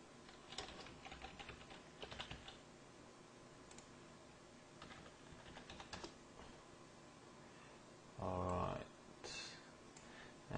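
Computer keyboard typing while entering sign-up details such as name, email and username: quiet, irregular key clicks in short bursts, with a louder clatter near the end.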